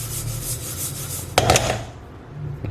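Flaxseeds are stirred around in a hot pan, giving a dry, steady scraping and rustling with a brief clattering burst partway through before the sound thins out.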